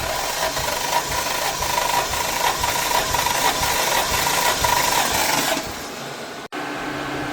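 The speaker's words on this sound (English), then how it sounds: "It's just a couple minutes worth of me compression testing each cylinder." A Toyota 1JZ-GTE engine from a Mk3 Supra cranks over during a cylinder compression test, a steady, fairly loud mechanical churning with rattly rhythmic pulses that drops off near the end, no voices.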